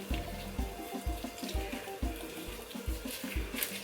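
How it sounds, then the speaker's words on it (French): Water runs steadily from a tap while a hand is rinsed of lemon soap, with a rhythmic splashing and gurgling pulse as the hand moves under the stream, close and moderately loud. "Je rince ma main et puis je vous fais voir ce que ça fait sur ma peau."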